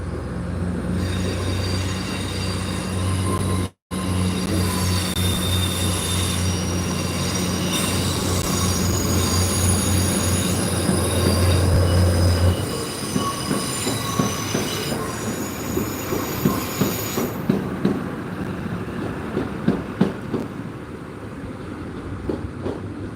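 An NI Railways train, unit 3012, departs Lanyon Place station in Belfast, its loud steady rumble and drone sustained as it moves off, with high wheel squeal building and then fading into clattering rail joints.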